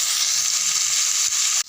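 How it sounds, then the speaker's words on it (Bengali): Pumpkin pieces frying in oil in a pan, a dense, loud, continuous sizzle heard up close with no talk, cut off abruptly near the end. "প্রথমে কুমড়োগুলোকে ভেজে নেব"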